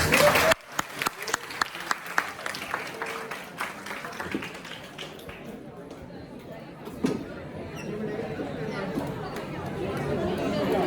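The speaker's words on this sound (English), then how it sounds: "Can we have a round of applause, please?" An audience claps at a spiritual talk by a speaker, scattered claps at the start that thin out into chatter and crowd murmur.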